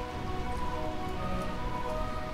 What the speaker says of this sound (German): Wenn es ewig regnet.